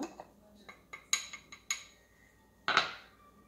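A spoon clinks and taps against a glass jar while stirring water and rye flour for a sourdough starter, giving a series of light, irregular knocks and a louder scrape near the end, close and quiet with no talk.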